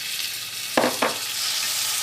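Tomatoes sizzling in hot coconut oil with chilli, a steady bright frying hiss with two sharp stirring scrapes near the middle, close and loud with no voices.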